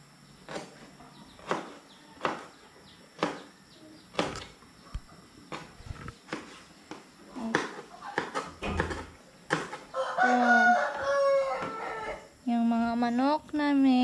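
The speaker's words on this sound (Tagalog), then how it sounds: "Manok namin." Backyard chickens cluck and crow nearby in a series of sharp calls, followed by a rising rooster-like crow, with some background clatter.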